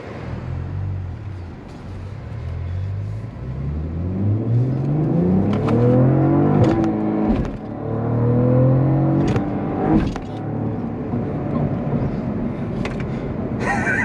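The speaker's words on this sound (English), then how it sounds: "This exhaust gets pretty gnarly." A 2024 Cadillac CT4-V Blackwing in Sport mode revs its engine hard, the exhaust rising and falling through several loud, rasping climbs with sharp cracks and pops between gear changes, continuous and close throughout.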